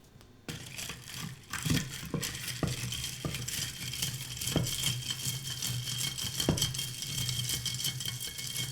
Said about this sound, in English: And I use my spoon to stir it.